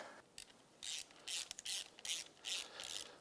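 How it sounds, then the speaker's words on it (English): A ratchet tightens the throttle body boots on a Yamaha YXZ1000R engine, giving several quick, close bursts of rapid clicking with brief pauses between strokes, heard alone and fairly quiet. "Now let's get our throttle body boots tightened down,"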